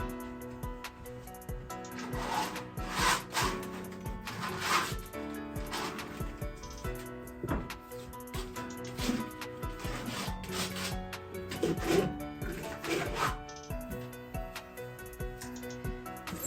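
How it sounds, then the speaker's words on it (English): A cake spatula drags and smears layers of paint across a canvas in a studio, giving steady scraping, rasping strokes in repeated passes over soft background music, with no talking. "And I'm gonna use my cake spatula. I'm gonna apply it,"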